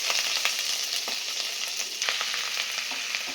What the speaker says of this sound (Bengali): হলুদ আর আদাটা একটু ভেজে নেব